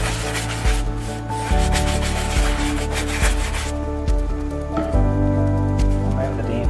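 A damp cloth is wiped across a leather lounge in repeated rubbing strokes, with soft regular swishes over a steady tonal background hum.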